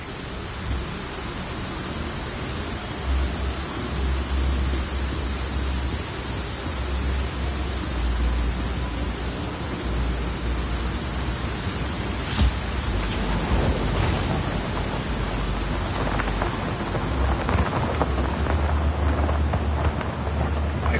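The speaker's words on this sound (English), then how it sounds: "Storm's rolling in." A video game thunderstorm: steady, hissing rain fills the scene while low thunder rumbles beneath it and a sharper crack breaks through midway, with no voices.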